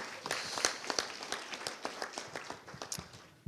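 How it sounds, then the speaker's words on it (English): A small gathering at a plenary session gives a brief round of applause, scattered individual claps close by and fairly faint, with no talking over it. "Yes, you can have a round of applause."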